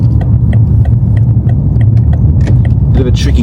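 A BMW M5 driving on the A167 towards Newcastle, its engine giving a steady low rumble throughout, with faint clicks and rattles above it and no speech.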